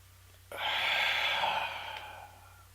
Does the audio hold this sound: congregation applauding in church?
no